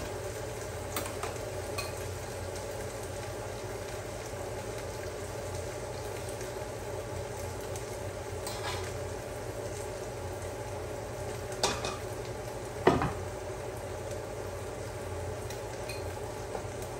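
Butter melting in a pan for qeema biryani gives a steady, even sizzle with faint bubbling, close by and quiet, with a few brief clinks of a utensil near the end.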